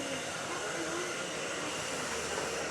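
A hair blower dries hair during a home haircut, giving a steady, close whooshing hiss with no breaks for the whole short stretch.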